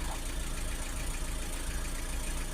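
A Renault Trafic 1.6 diesel engine idles roughly with a faulty preheating unit, a steady close rumble with an uneven, knocking pulse running through the whole stretch and no voices.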